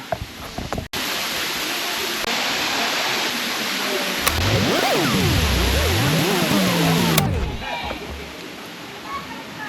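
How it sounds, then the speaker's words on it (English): Waterfall in Bali near Mount Batur: a steady, loud rush of falling water fills the whole stretch, with brief handling bumps and a faint voice in the background. "now I'm at a waterfall"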